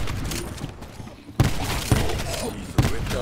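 Rapid gunfire from the starting weapon in Call of Duty Black Ops 4 Zombies, several sharp shots cracking over a dense, noisy game mix, close and loud.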